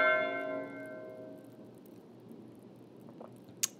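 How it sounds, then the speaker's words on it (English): A single church bell in the video game Pentiment rings once, loud at first, with its tone fading away over a few seconds into quiet, followed by a faint click. "Is that bell tolling because it's morning or because someone's dead?"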